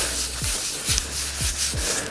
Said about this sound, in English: I'm gonna do that burnishing again. I'm gonna rub it carefully